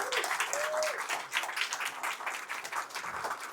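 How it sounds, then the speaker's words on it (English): An audience at a leadership talk applauds a Medal of Honor recipient with a dense, sustained round of clapping that swells briefly and holds steady, with a faint voice or tone near the start. "give another round of applause for Flo."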